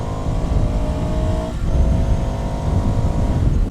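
A 2020 Ducati Scrambler Sixty2 motorcycle engine runs steadily in Manila traffic, a continuous low rumble close by with a brief dip in pitch partway through, fairly quiet exhaust note.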